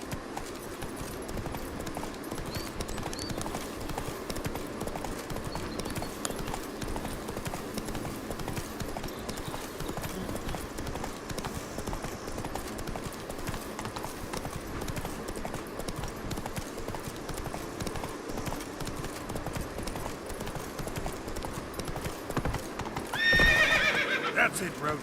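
Roach the horse trots in Witcher 3, hooves clip-clopping steadily across the whole stretch, with a whinny near the end and a voice speaking over the hoofbeats.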